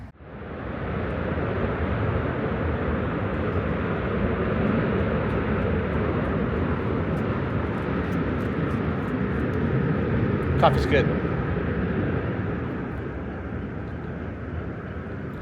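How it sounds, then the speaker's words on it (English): A fighter jet takes off from the North Island naval base, heard as a sustained, broad, distant roar that swells and holds throughout, with a person speaking briefly over it. "Some sort of fighter jet just took off over there."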